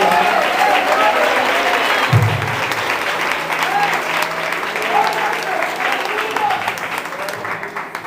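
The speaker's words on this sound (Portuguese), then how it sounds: "Você dá uma salva de palmas para Jesus." A church congregation applauds steadily throughout, a dense wash of clapping filling the room, with a voice speaking faintly under it.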